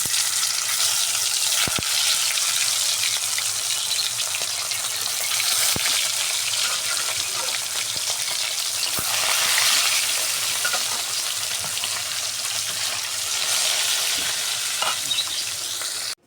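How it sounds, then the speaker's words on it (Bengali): Fish fry in hot oil in a pan, a dense, continuous loud sizzle and crackle with a few sharp ticks scattered through, and no voices. "তেল দিয়ে দিয়েছি, দেখেন তেল গরম হয়ে গেছে। এখন মাছ ভাজা করব, মাছগুলো দিয়ে দেবো।"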